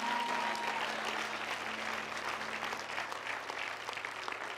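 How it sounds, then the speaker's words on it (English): A church congregation claps at the end of a Sunday morning service, sustained even applause filling the room, with a faint tone in the background at the start. "Let's give Jesus a hand clap"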